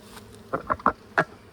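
Honeybees around a hive during an inspection, a few short faint buzzing bursts as individual bees fly close past.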